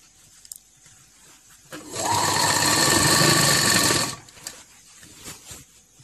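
An electric sewing machine stitches a pant seam in one loud, steady, close whirring run of about two seconds, then stops, with faint handling noises before and after.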